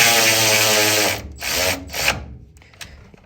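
Brake caliper bolts being tightened on a 1985 Chevy C20, a loud power-tool whir running steadily then breaking into two short bursts, followed by faint clicks.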